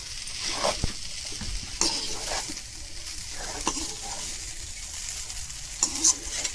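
Vegetable biryani with a little ghee sizzles and fries in a pan while a spoon stirs and scrapes through it, steady frying hiss with occasional clinks of utensil against metal, no talking.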